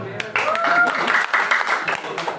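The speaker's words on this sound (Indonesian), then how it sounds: "Kasih aplaus dulu deh." Audience applause breaks out during a social entrepreneurship field study session, a steady patter of claps of moderate loudness lasting a couple of seconds, with voices mixed in.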